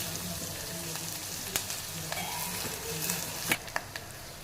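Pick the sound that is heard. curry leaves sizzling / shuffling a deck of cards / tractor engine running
curry leaves sizzling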